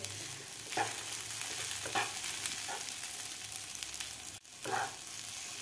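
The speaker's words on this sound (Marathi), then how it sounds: "एक ते 2 मिनिट मी व्यवस्थित परतून घेतलेला आहे" Soaked sabudana and potatoes sautéing for khichdi, a soft continuous sizzle with a few scraping stirs of a spoon against the pan, fairly quiet and without talk.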